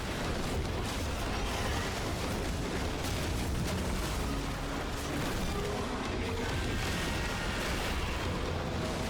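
Rocket blasts in the sci-fi shooter Warframe, a continuous rumbling wash of explosions and bursts. It stays loud and dense throughout with no clear break between impacts.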